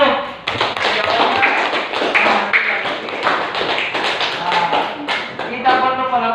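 A classroom of students claps hands together in a dense, steady rhythm for several seconds, close and loud, with voices mixed in.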